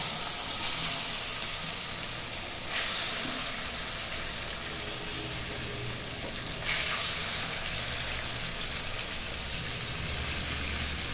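Fresh mangoes tipped into a hot pan sizzle in a steady, hissing wash that holds level throughout, with a few brief bursts of louder spitting, close by and with no talking.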